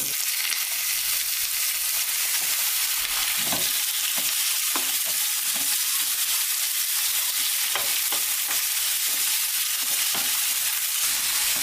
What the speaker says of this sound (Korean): 식용유를 프라이팬에 넣고 닭을 볶아줍니다.